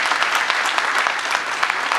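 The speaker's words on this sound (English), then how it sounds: "he deserves a round of applause" A roomful of people at a union gathering breaks into loud, close applause, with thick overlapping claps running unbroken from start to finish.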